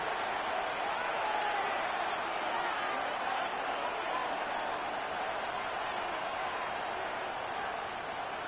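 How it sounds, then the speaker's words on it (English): Buffalo home crowd in Madden 26 during a Ravens–Bills game, a steady, distant roar of massed voices holding evenly throughout with no distinct cheers or applause. "The Buffalo crowd being heard before 3rd down"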